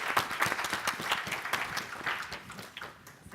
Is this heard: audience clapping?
yes